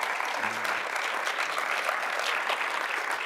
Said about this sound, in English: let's have an applause for that